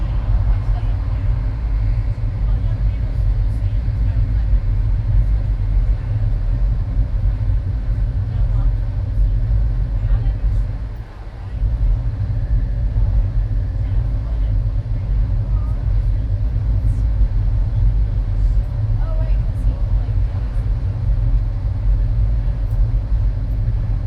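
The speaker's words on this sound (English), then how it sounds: "This monorail is now approaching EPCOT" Disney EPCOT monorail running, a steady low rumble and hum of the train with a brief dip midway, heard from inside, with a voice speaking over it.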